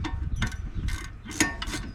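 A ratchet works on the brake caliper bolts of a 2014 Dodge Charger SXT, giving several short bursts of quick metallic clicking up close, with brief pauses between the strokes.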